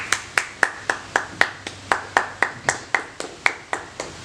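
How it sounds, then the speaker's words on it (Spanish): Clapping during a church service, heard as sharp, evenly spaced claps about four per second in a steady beat for a few seconds, fairly close and with no talking over it. "denle un fuerte aplauso"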